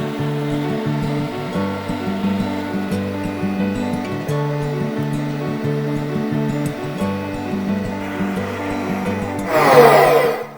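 Meat grinder working steadily on meat and wheat for raw kibbeh, a continuous droning mechanical whir with a rhythmic pulsing churn throughout, growing louder and harsher near the end.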